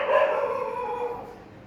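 A dog gives one drawn-out, whining howl-like bark that fades over about a second and a half, fairly close, with no talk over it.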